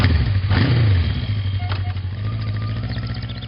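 A motorcycle engine runs loudly up close and revs as the bike is ridden away, a rough, throbbing drone that swells briefly and then settles into a steady, fairly loud hum.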